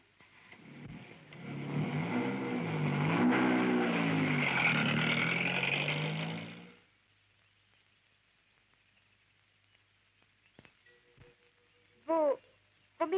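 A car engine in a radio drama, a steady droning run lasting several seconds that then cuts out, followed by near-silence and a few faint clicks and a brief tonal burst at the end.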